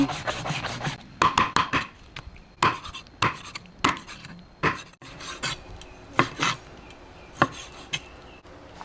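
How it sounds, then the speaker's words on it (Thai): Repeated knife chops through chicken on a wooden board, cutting bite-size pieces, irregular bursts of sharp thuds close by, with brief pauses between runs of strokes. "ไก่ก็จะหั่นเป็นชิ้นๆพอดีคำ"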